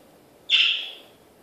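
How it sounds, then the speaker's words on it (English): A pet bird indoors gives one sudden, sharp squawk that fades over about half a second against a quiet room. "Sorry for the noise if you hear my birds."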